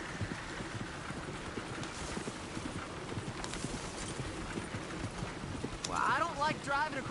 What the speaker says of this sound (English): Look where you want to go and the horse will follow.